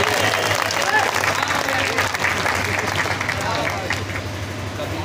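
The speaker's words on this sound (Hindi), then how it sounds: "एक बार जोरदार तालियां।" An audience at an Independence Day poetry recital breaks into strong applause, a dense wash of clapping held across the whole stretch and easing slightly at the end, with a low hum beneath.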